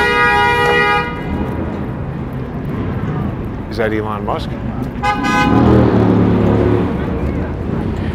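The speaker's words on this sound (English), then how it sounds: "It's going to be crazy honking." Car horns honk amid Midtown Manhattan traffic, with a sustained horn blast at the start and more toots later over a constant rumble of street noise, while a person talks nearby.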